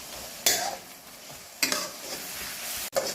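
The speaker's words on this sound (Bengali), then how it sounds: "এবার রসুনটাকেও ভালো করে এই পেঁয়াজ আর আদার সঙ্গে কষিয়ে নেব।" Garlic paste stir-fried with onion and ginger in a pan for a stomach curry, with a steady sizzle and three sharp scraping stirs of a spatula, close up with no talk.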